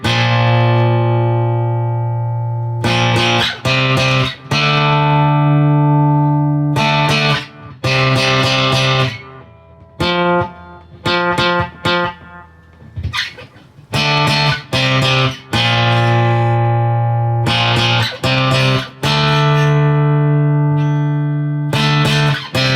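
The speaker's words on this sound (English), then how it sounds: "Let's put some reverb and delay on." Notes and chords from an Ashthorpe thinline electric-acoustic guitar ring out with lush reverb and echoing delay repeats, played in phrases separated by short pauses, no voices.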